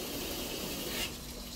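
A washing machine takes in more water, a quiet steady trickling rush of filling water heard up close, with no voices.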